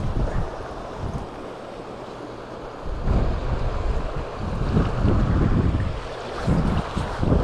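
Loud gusting wind buffeting the microphone outdoors by the River Ayr, with a low rumbling roar rising and falling near the water and no voices.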